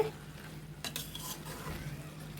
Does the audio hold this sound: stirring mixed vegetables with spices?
yes